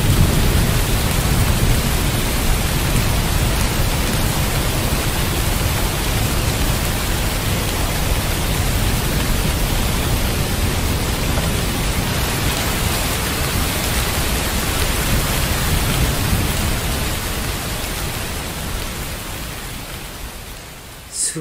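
Rain and thunder ambience in a VRChat world with a surging sea, heard as a dense, loud, continuous hiss of rainfall and deep rumbling that fades slightly toward the end.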